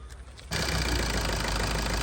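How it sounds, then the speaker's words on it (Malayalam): A used car's engine cranks and catches at about half a second, then settles into a steady, loud idle right up close that fills the rest of the clip, with no talking over it. "എഞ്ചിൻ്റെ ഇപ്പം നമ്മൾ സ്റ്റാർട്ടായിരിക്കുകയാണ് എഞ്ചിൻ്റെ ശബ്ദത്തെക്കുറിച്ച് നമ്മൾ നോക്കണം"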